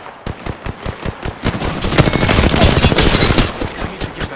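Video game gunfire: loud automatic shots in an even, rapid rhythm that thickens into a dense, continuous burst of fire before thinning out again, with no talking.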